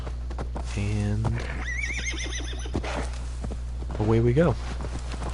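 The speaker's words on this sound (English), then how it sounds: "Call the horse," A horse in the Assassin's Creed Valhalla video game whinnies twice, loud and close, with clip-clopping hooves and a steady low game hum underneath, while someone talks briefly over it.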